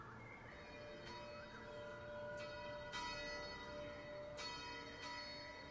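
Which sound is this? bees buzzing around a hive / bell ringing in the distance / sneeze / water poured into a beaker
bell ringing in the distance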